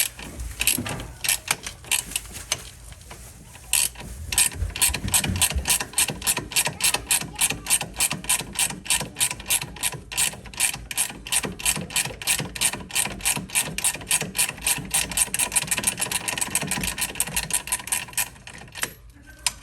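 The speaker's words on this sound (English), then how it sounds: "So now I'm gonna remove the nut on the other side." A ratchet spins a nut off the coilover shock from a Rev9 Hyper Street II suspension kit for a Dodge Charger or Challenger. The clicking is fast, steady and close, holds for nearly twenty seconds with brief pauses, and no one speaks.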